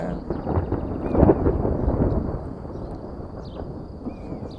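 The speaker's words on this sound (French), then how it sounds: "je laisse passer l'orage" A low, rolling rumble of thunder swells and fades over a few seconds, with faint chirping in the background.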